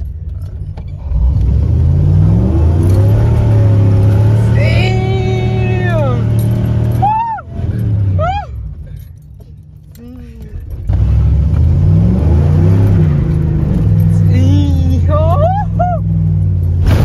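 A car engine revs up repeatedly as it accelerates, loud and close, rising pitch sweeps surging then dropping back, with a brief lull before another hard rev.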